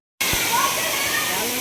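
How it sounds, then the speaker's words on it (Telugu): The Blue Waterfall in a rocky forest of Mulugu district pours with a steady, loud, broadband rush of falling water that holds unbroken from start to finish with no voices. "బ్లూ వాటర్ ఫాల్స్, దీన్నే ఇంకోటి మాసినలుద్ది వాటర్ ఫాల్స్ అంటారు."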